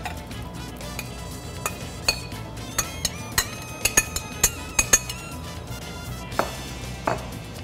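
A spoon stirs pineapple into tomato salsa in a bowl, giving a series of light clinks and taps against glass, spaced irregularly and growing closer together midway, with no talking.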